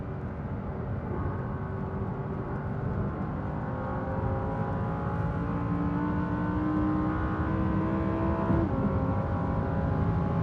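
An Audi R8 RWS sports car accelerates hard toward top speed, its engine a steady, rising drone heard from inside the cabin, pitch climbing gradually through gear pulls over ten seconds with no talking.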